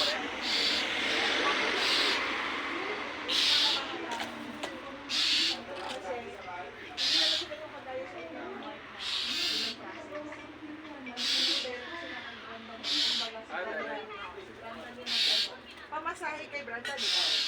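Repeated owl hoots ring out over a steady background hum, with people talking throughout.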